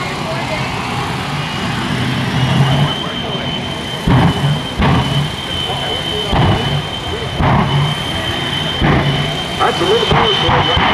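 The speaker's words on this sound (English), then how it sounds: "That's a little more for the afterburner, but not at full engine power." The Shockwave jet truck at an airshow runs its jet engines with light afterburner bursts, a steady roar punctuated by several sharp loud surges, with someone talking over it.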